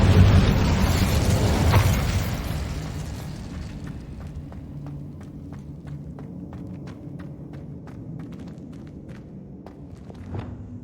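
Incendio fire spell cast in the video game Hogwarts Legacy: a loud broadband whoosh-burst opens the clip, then fades into a quieter bed of crackles and a steady series of sharp, evenly spaced ticks, with no one speaking.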